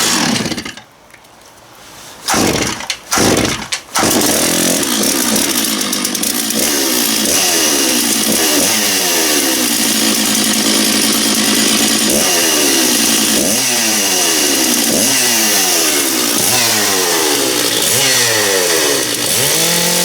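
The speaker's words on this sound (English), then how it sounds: "Let's get out the big 660 over there and we'll give him a little run." Stihl MS660 chainsaw pulled and started after a few short sputters, then running loud and close with repeated revving surges over a steady roar for about twenty seconds.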